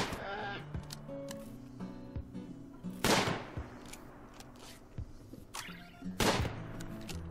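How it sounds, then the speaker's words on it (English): Two sharp gunshots in the video game RimWorld, a few seconds apart, cracking over steady game background tones. "Those are the only shots he's missed"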